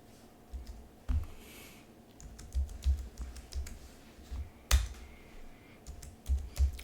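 Keystrokes on a computer keyboard while a password is entered, irregular soft clicks and taps in uneven bursts, with one sharper louder press midway, heard close and alone.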